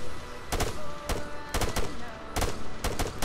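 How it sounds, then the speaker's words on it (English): Machine gun fire in Arma 3 arrives as short, loud, sharp bursts of several rounds each, repeating at irregular intervals with faint background voices. "Machine gunner, 300 meters, bearing 195."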